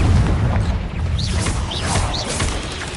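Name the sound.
Confringo explosive spell cast in the video game Hogwarts Legacy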